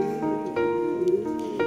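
Racing pigeon cooing at a derby loft, a close, soft series of low throaty coos repeating steadily with no talk over it.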